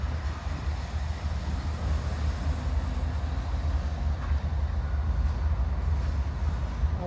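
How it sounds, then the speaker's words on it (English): A CSX freight train rumbles steadily nearby while cars are hooked up, a constant low, heavy drone with faint metallic squeals and no talking. "they are probably hooking up the train"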